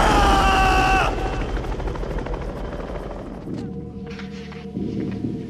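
A helicopter in the film Encino Man drones loudly overhead at first, its rotor thrum fading as other sounds take over.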